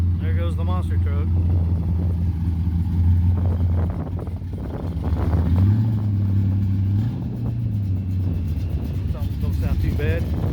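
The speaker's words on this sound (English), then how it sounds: "There goes the monster truck." Cammed monster truck engine at a truck show, a deep lumpy idle rumble passing close by, rising and falling as it drives past, with people talking over it.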